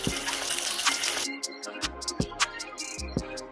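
Good-quality spring water flowing out of a hillside on Mt. Shasta, a steady gushing pour that later breaks into irregular splashes and trickles, close and fairly loud with no talking.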